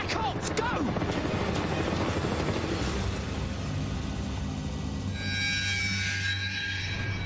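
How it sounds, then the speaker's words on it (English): Black Hawk military helicopter heard close and loud as a continuous dense rotor and engine roar, with a higher whine emerging toward the end; a voice seems to be mixed in. "That is a military helicopter. In fact, it's a Black Hawk."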